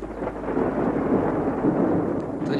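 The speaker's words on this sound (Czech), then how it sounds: "To nic není, to je hrom." Thunder in a storm rolls as a low, continuous rumble that stays loud throughout, with a faint wash of rain behind it and no voices.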